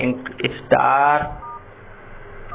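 Mobile phone dial pad tones ring out as a code is keyed in, a few short beeps and then a longer sustained tone, close and clear, with faint background voice traces.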